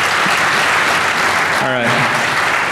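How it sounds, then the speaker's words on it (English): A DEF CON 20 hacking conference audience applauds first-time speakers, dense loud clapping filling the whole moment while someone briefly speaks over it. "How about a round of applause for these guys?"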